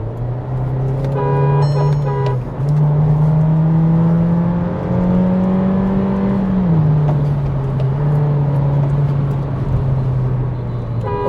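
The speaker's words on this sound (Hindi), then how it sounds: "अब मैं एक बार आपको स्पोर्ट्स मोड में लेके चलता हूं, और म्यूज़िक नहीं चल रहा, और आप खुद इसके इंजन मतलब अगर इंजन की आवाज़ सुन पाओ" A German car in sports mode drones loudly from the cabin, its engine note holding steady, rising briefly, then settling, with no music or talk over it.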